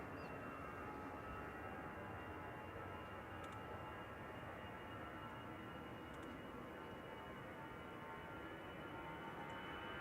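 Qatar Airways airliner passing over near Manchester Airport, a faint steady broadband engine roar that holds evenly throughout with no clear rise or fade.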